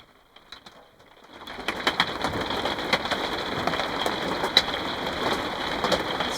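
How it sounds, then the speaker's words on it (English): Rain patters steadily on a camper van roof, starting faint and swelling into a dense, close drumming with scattered heavier drops. "It's raining again."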